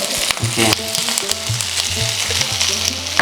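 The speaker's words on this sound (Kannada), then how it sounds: "ಎಷ್ಟು ಚಂದ ಹುರಿಯಾತಾವ" Capsicums frying in a pan with a little oil give a loud, steady sizzle close up, with frequent scraping stirs of the spatula against the pan running throughout.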